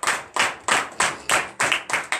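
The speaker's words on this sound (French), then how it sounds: "Donnez de vives acclamations." A congregation at a morning prayer service claps in a steady rhythm, about eight sharp, loud bursts of hand claps in quick succession, close and without talk.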